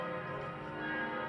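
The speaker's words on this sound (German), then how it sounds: "Also mit den Kirchenglocken noch dazu." Church bells ringing in Oberstdorf in the Allgäu, a sustained, faint, blended ringing heard at a distance with no voices over it.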